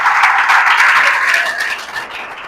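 A church congregation claps during a sermon. A loud, dense burst of many hands applauding swells at first, then gradually tapers off over a couple of seconds.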